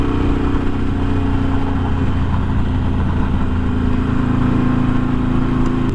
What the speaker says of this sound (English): the bike sounds awesome